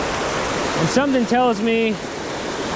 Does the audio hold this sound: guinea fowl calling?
no